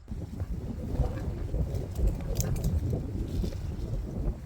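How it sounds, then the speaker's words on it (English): Low, rumbling wind buffets the microphone steadily outdoors, with faint bird chirps high above the gusty roar. "it's so windy out here now"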